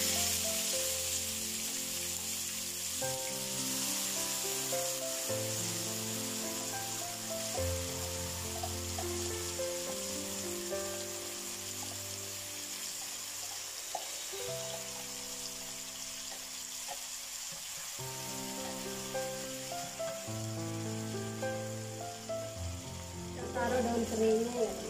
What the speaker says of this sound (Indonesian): Kita taruh sambal yang sudah kita blender ya teman-teman.